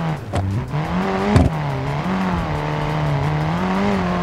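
A front-wheel-drive car in BeamNG.drive v0.19 revs its engine with a steady, raspy drone that rises slightly and then holds, briefly broken by a sharp clatter, with no talk.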